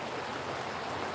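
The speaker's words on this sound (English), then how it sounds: "We're here at the beach. See the ocean waves." Ocean waves at the beach make a steady, dense, hissing wash of surf, loud and close, with no voices heard.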